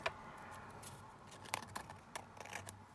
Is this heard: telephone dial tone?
no